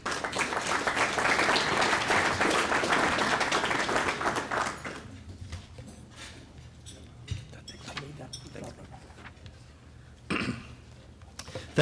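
A lunch crowd at a civic association directors' luncheon claps loudly for about five seconds, then it falls to quiet room sounds with a few coughs and a brief spatter of claps near the end.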